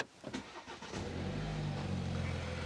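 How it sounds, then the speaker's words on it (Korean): A BMW 530i xDrive G30 sedan starts up: a brief starter crank, then the engine catches and settles into a steady, fairly quiet idle heard from inside the car. "시동을 한번 걸어 볼게요"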